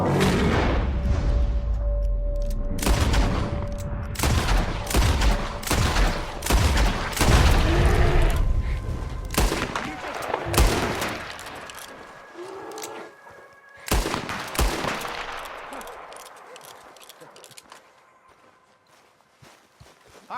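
Gunfire from Red Dead Redemption 2 cracks out in a rapid, loud burst of repeated shots, mixed with horse hooves clip-clopping and footsteps, then thins out toward the end.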